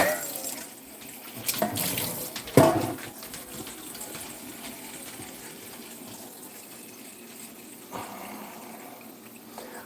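A tap runs fresh water into a bowl for an old dog, a steady splashing gush with a louder burst early on, close by, with a soft voice speaking briefly.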